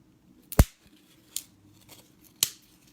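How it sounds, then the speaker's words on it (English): A piece of craft foam is snapped off by hand in three sharp, crisp cracks spread over a few seconds, close and fairly loud against near silence. "I'm just going to snap that little bit off"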